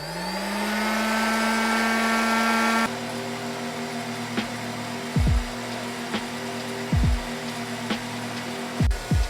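A coffee roaster roasting Rwandan coffee beans: a steady mechanical whirring drone that starts up and settles into a constant hum, with intermittent low thumps and clunks recurring every second or so.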